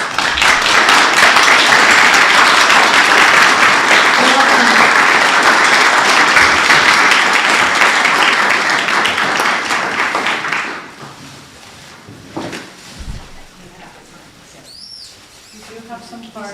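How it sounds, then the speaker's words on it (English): Audience applause at a school board meeting honoring staff and teachers of the year, loud sustained clapping for about ten seconds, then fading to scattered claps and a quiet room with faint voices. "let's give them one last round of applause"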